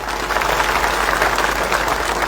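A large rally crowd claps steadily and loudly throughout, a dense continuous wash of applause with no voices standing out.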